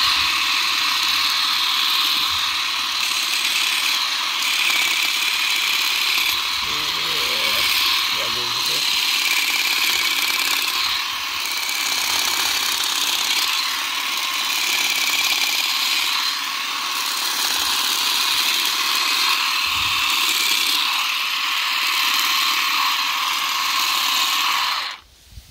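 A Ryobi ONE+ cordless grass shears and shrubber, the 18V 1.5Ah RGS18X15 kit, runs with a steady high-pitched electric buzz while cutting, loud and continuous for the whole stretch, with a brief low thud near the middle.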